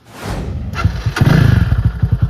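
A Loncin CR4 250 motorcycle with a straight-through exhaust cranks and fires up, settling into a close, deep, pulsing idle with a sharp thump as it catches.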